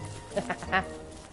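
Turkeys (gobblers) in the video game Don't Starve let out a few short, faint, nasal quacking calls in quick succession, three brief bursts over a low background.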